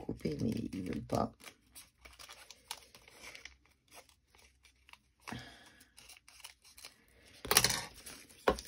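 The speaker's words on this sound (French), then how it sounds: "Ciseaux." Scissors snipping paper while making an arts-and-crafts collage, several short crisp cuts and rustles near the microphone, separated by quiet gaps and soft handling noise.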